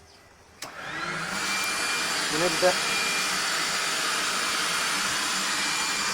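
A vacuum cleaner switches on with a thump and settles into a loud, steady roaring whine, used with a funnel to separate husks from birdseed; a voice speaks briefly at the start.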